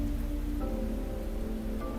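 Gentle rainfall in the game FANTASIAN: Neo Dimension, a constant wash of drops layered over a quiet held tone, with no talking.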